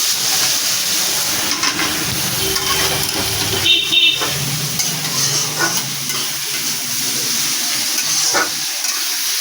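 Brinjal pieces salted and frying in a pan sizzle and hiss steadily, with occasional stirring scrapes and clinks over the continuous crackle.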